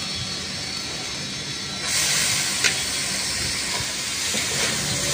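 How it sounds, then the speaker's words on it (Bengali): Cabbage is tossed into a pan of fried chicken, and a quiet hiss jumps into a louder, bright, continuous sizzle that carries on close by. "এবারে আমি এতে দিয়ে দেবো বাঁধাকপি"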